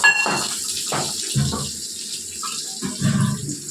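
Water splashes and runs in uneven bursts from a tap, with clattering as something is rinsed or filled close by, while making tomato pickle.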